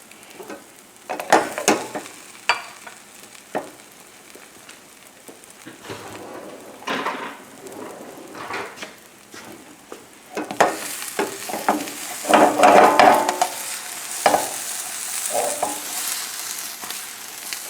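Prosciutto and Boursin cheese omelet cooking in a pan over a high flame, with a steady sizzle and frying crackle punctuated by scraping and stirring knocks, growing louder and brighter toward the end.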